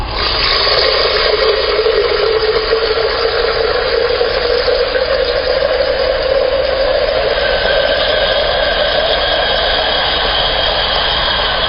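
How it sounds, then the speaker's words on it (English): Water pours steadily into a pitcher for Kool-Aid in a home kitchen, a loud continuous rush whose pitch rises gradually as the pitcher fills, with no talking. "Now we're going to put in the water."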